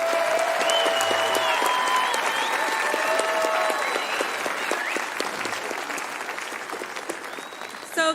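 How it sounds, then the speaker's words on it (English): Graduates at a California campus graduation ceremony receive a round of applause, a dense, steady crowd clapping with faint cheers and whistles mixed in, tapering slightly near the end. "Let's give our graduates, meanwhile, another round of applause"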